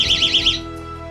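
A homemade head-tilt switch alarm sounds with a loud, close electronic warble, four rapid pulsing chirps that cut off after about half a second, leaving a faint hum.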